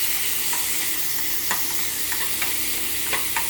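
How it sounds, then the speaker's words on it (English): Thick bacon frying in a pan, a dense steady sizzle with a few light taps and scrapes from a metal food turner, close and continuous. "You want the bacon to get real crispy."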